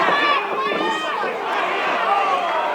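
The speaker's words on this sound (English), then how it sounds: "You can hear the crowd, boy, they're really into it." A crowd at a fight between Clark Walters and Kent Eanes roars and yells steadily in a loud, reverberant room, with a commentator talking over the noise.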